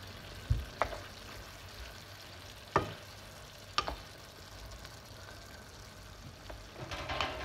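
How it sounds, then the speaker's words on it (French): Ground beef in sauce simmers quietly in a pan under a low sizzle, broken by a few sharp spoon knocks and scrapes from occasional stirring, close and fairly soft. "Voilà, on laisse cuire tranquillement,"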